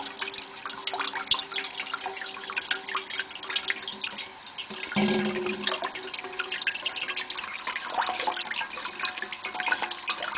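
Water flowing steadily in a faint, continuous trickle and wash, slightly fuller midway through, with no voices.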